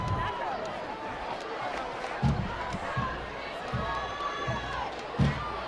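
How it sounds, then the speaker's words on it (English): A high school football playoff crowd at Destrehan cheering over a steady roar, with several short thumps and bursts of noise and a commentator's voice running over it. "Now that has woken up the Destrehan crowd."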